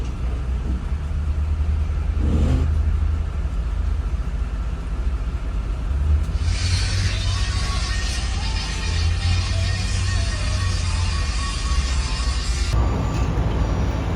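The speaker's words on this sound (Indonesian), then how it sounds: "Lagi manasin mesin dulu guys." Truck engine idling as it warms up at Tanjung Priok port, a steady low rumble and drone throughout, with a brighter hiss layered over it for several seconds in the middle.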